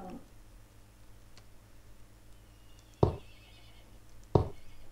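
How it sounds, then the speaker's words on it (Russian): A horse in the block-building game Block Story gives two short, sharp neighs or snorts, roughly a second and a half apart, over a faint steady background hum. "Что-то лошадь там больно буйная какая-то оказалась. Шумит."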